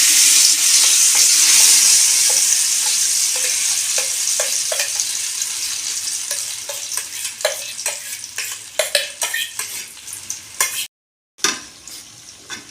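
Jackfruit paste sizzles and fries in ghee in a pan, with a steady spitting hiss and a run of sharp scraping stirs that grow more frequent toward the end, broken by a brief silence.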